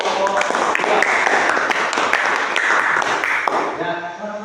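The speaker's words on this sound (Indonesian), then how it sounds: "tepuk tangan untuk kelompok 2" A school class applauds group 2 with a dense, sustained wash of many hands clapping, loud and close, with scattered sharper claps standing out before it tapers off at the end.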